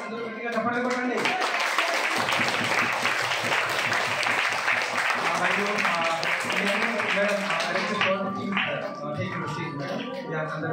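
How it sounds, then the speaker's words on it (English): An audience at an Indian Book of Records ceremony keeps up loud, continuous applause for several seconds, with a voice speaking over the clapping near the end. "please continue your claps"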